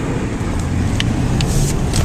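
A car slides sideways on a snowy winter road, its engine and tire rumble a steady loud drone with faint squeaks and crunches on top, heard from inside the vehicle.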